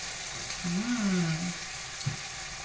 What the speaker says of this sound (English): we're gonna go and add our tomato sauce. Once again, you can hear it frying